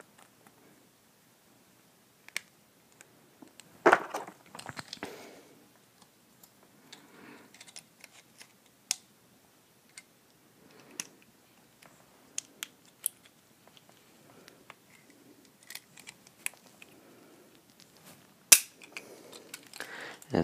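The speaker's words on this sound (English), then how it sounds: "compress the spring enough to get the slam fire catch back on" Spring being compressed inside a NERF N-Strike Elite XD Strongarm blaster during a mod, with sparse close plastic creaks, scrapes and sharp clicks spread across a quiet stretch, one louder snap near the end.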